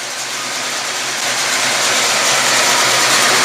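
A Pontiac GTO's big-block engine idles close by with a constant, throaty rumble and hiss that grows slightly louder as it runs.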